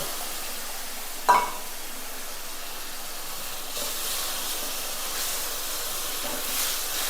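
Ground tomato is added to frying masala for a fish gravy, giving a sharp splash followed by a low steady sizzle and hiss that rises slightly toward the end, with no talking.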